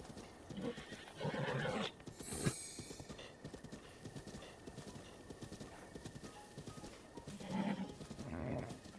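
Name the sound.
horse neighing and hooves clip-clopping in Zelda Breath of the Wild video game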